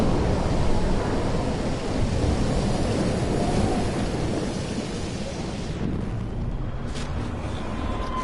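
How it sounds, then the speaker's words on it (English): A heavy thunderstorm in Life is Strange roars steadily with dense, loud rumbling and rain-like wash throughout, close and enveloping, easing slightly near the end. "Storms."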